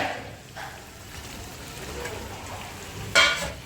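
Fried chicken and potatoes drop into sizzling masala in a pan, a soft frying hiss that rises to a louder burst of crackle near the end, with no talking.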